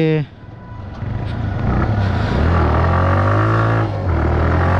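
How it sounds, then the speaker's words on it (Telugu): A TVS Raider 125 motorcycle engine runs after being started, a steady close idle hum with a slight rise in revs, heard under someone speaking. "సో ఇప్పుడైతే మనం బండి స్టార్ట్ చేసాం"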